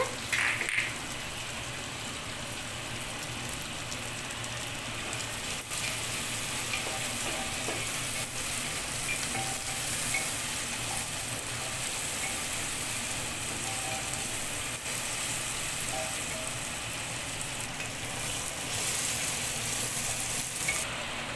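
Ginger and garlic frying with tomatoes in a pan, a steady rain-like sizzle and crackle running throughout with occasional soft stirring knocks, moderately quiet and close, no speech heard.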